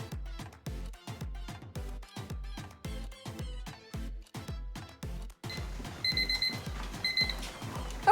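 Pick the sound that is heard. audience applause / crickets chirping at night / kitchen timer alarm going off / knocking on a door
kitchen timer alarm going off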